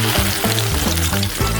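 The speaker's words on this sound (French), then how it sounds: "on pourra les plonger dans l'huile bouillante" Potato smiley shapes fry in boiling oil, a loud close bubbling sizzle over a humming tonal background that pulses in short regular swells, with no talking.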